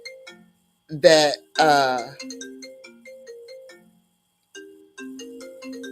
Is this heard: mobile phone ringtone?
yes